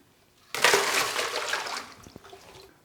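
Alcohol poured out of a plaster slip casting mold into a bucket: a sudden close rush of liquid that gushes loudly, then thins into trickles and drips over a couple of seconds.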